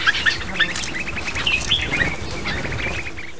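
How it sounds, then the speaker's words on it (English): Birdsong rises over an organic farm field in the Kutch area, with repeated high chirps and calls from several birds against a steady outdoor background, moderately near and without talk. "Here you can tell an organic field by the sound. It's alive with birdsong."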